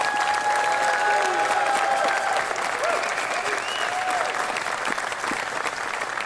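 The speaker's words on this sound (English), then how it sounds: "How about a round of applause for them?" A press conference audience applauds the university's men's and women's basketball teams, a sustained wash of clapping from many hands at even loudness, with a brief tone and faint murmurs underneath.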